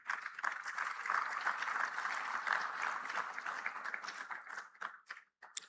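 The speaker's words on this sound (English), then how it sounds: "Please, a round of applause for him as he makes his way to sit down" An audience at an Africa summit claps for a speaker as he goes to his seat, a steady, fairly distant patter of applause that thins out and fades near the end.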